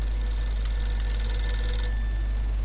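Telephone ringing in the Mafia 2 video game, a steady electronic bell tone over low background hum with no voices.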